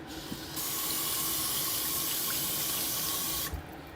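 Tap water gushes steadily into a kitchen sink while a red pepper is washed, starting abruptly and cutting off after about three seconds, loud and close with no voices.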